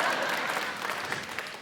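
Short burst of warm applause from a literary event audience welcoming author Matt Haig, a dense patter of clapping that fades slightly toward the end.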